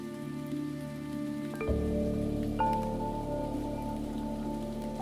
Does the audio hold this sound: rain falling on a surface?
yes